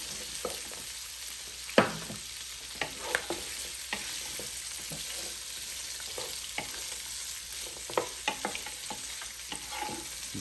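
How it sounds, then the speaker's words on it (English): Onions sautéing in a pan with cabbage and sausage give a steady, moderately loud sizzle, broken by intermittent scraping clicks as the mix is stirred. "I'm going to throw little onions in there, just like that. Just let that get nice, good and sauteed everything."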